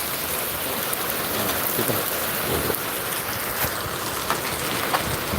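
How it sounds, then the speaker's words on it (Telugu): Heavy rain pours steadily over Zaheerabad town in Sangareddy district, a dense, even hiss of drops hitting surfaces with no voices present. "సంగారెడ్డి జిల్లా జహీరాబాద్ పట్టణంలో వర్షం అయితే కురుస్తుంది"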